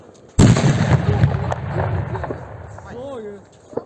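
Firework going off too early, a single sudden loud blast followed by rumbling decay and crackle, with people talking and exclaiming close by afterward.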